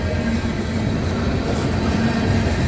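A CSX freight train hauling tanker cars passes nearby in wet weather, a steady, close rumble of rolling stock with a faint low hum, continuous and without voices.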